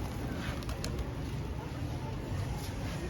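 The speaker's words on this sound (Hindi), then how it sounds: "ये देख सकते हो आप कबूतर तावे ले रहे हैं भाई" Pigeons on a rooftop loft cooing softly among faint outdoor background noise, low and quiet throughout with no one speaking.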